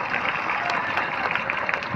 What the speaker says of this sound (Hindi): उन सबको एक बार तालियों से अभिनंदन करिए।